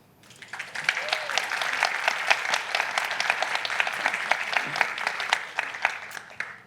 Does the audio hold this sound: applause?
yes